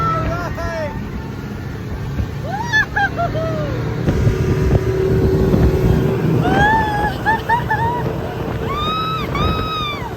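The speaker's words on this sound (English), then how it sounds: "This is more of a private boat, but I guess Voldemort decided he wanted to do a private one instead of the actual ferry" Private speedboat ride on water in southern Brazil, a steady engine drone and rushing water throughout, with bird honks and people talking over the noise.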